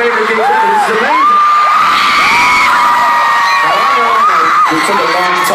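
Concert crowd in Manila cheering: loud, dense screaming and whooping from a large audience, sustained without pause, high-pitched voices rising and falling in waves throughout.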